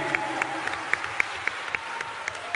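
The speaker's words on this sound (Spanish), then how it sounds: "recibámoslos de pie con un aplauso a nuestros héroes" Applause rises as honored guests are received standing, a soft, distant wash of clapping with a few sharper claps and brief vocal bursts poking through, fairly faint overall.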